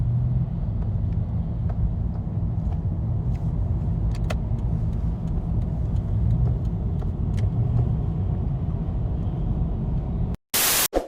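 A car drives along a road with steady engine and tire rumble and wind noise inside the cabin, then a sudden cut and a brief sharp burst of noise at the end.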